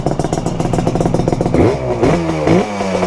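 Yamaha RD350 cafe racer two-stroke motorcycle running up close, a steady rapid pulsing idle that swells into sharp revs around the midpoint and again near the end.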